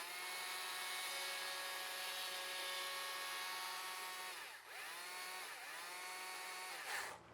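Chainsaw carving a wooden gnome sculpture, its engine droning loud and steady close by with a sustained high whine, dipping briefly in pitch as the bar bites into the wood, then revving up again near the end.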